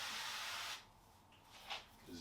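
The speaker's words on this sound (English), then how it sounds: "use a little zero spray" Zero-calorie cooking spray hisses into a pan in one short burst of about three quarters of a second, close and fairly quiet, followed by faint clinks.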